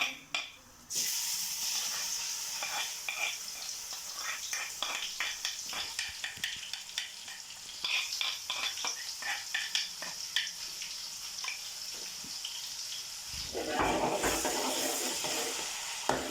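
Chopped onion frying with cumin in a pan, a quiet hissing sizzle with frequent stirring scrapes and taps in an uneven rhythm, swelling louder near the end, no talking.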